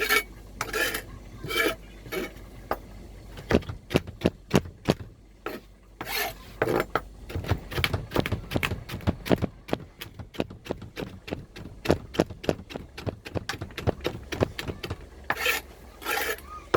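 Repeated sharp chopping strikes on a boat, some quick bursts and some spaced out, close by with a scraping, rasping quality between blows.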